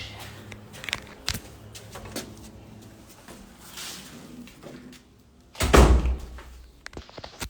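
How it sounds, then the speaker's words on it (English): A house door shuts with one loud, solid thump near the end, preceded by faint rustling and light knocks in a quiet room; no talking. "I heard the door."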